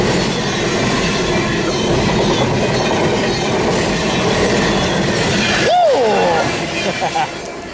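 An eastbound BNSF freight train passes near Monolith on the Tehachapi line with a loud, continuous rumble and wheel clatter, and a brief wheel squeal toward the end. A person talks over it.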